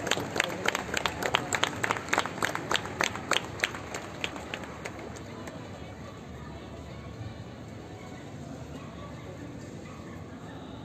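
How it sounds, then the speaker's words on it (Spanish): Crowd clapping at a street protest outside a government palace over a woman's killing, starting as loud rhythmic unison claps and then fading into scattered clapping and murmuring chatter, with a voice speaking over it. "Están pidiendo un minuto de aplausos."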